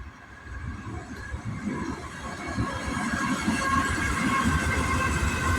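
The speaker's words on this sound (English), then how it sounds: "Norfolk Southern, second train of 2025." A Norfolk Southern freight grain train with gondolas rolling past in the rain, a steady, loud rumble of rail cars and wheels that grows slightly fuller as it continues, with no voices.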